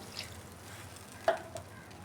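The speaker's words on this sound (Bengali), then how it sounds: "পরিমাপ মতন জল দিয়ে দিচ্ছি" Water poured into a pot of simmering vegetable curry, a quiet sizzle and soft stirring with a small splash, faint and close.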